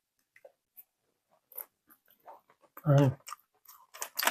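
Crunchy chewing of dried persimmon (hoshigaki) fruit, close up, a few scattered bites and mouth sounds with one louder burst midway, around brief speech.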